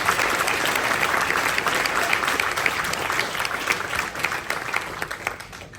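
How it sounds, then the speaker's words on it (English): Sustained applause fills the room at a Sherwood lacrosse banquet, a steady loud wash of many hands clapping from start to finish that tapers slightly toward the end. "let's give a round of applause for all of them"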